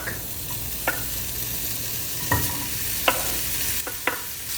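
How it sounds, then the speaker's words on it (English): Pork sizzles in a hot pan as it browns for a Filipino dish, a steady close frying hiss punctuated by several sharp scrapes and clacks of stirring. "So once your pan is nice and hot, you can add your pork."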